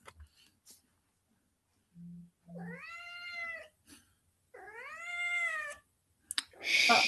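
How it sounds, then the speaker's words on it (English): A cat meowing during a planning steering group meeting, two drawn-out meows close to the microphone after a few soft clicks and faint low tones, with a short rustle at the end and no talk. "That is a very fine cat."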